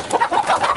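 A fighting rooster gives short, loud clucks up close, a quick cluster of throaty, rising notes packed into under a second.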